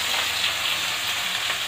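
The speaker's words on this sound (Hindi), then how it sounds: "अब मैं इसमें प्याज व्याज थोड़ा सा डाल देता हूँ ना, प्याज डाल देता हूँ" Onions hit hot oil already spiced with cumin and fry with a dense, even hiss that holds loud and close for a brief moment, with no voices over it.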